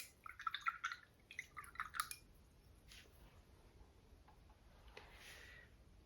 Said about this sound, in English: And rinse my brush out.